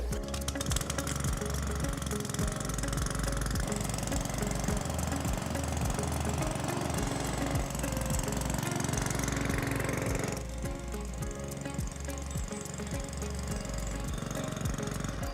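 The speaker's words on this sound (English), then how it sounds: "pull the recoil, the engine starts, and then we just push it and mow off" A Cobra M41C petrol lawn mower engine drones steadily and loudly throughout, with a rough, knocking mechanical texture that eases slightly toward the end.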